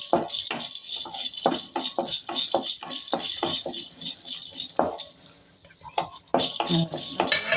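Roasted gram dry-roasting in a pan for a kuruma spice powder, with rapid close rattling and scraping bursts in an irregular rhythm and a brief lull near the end.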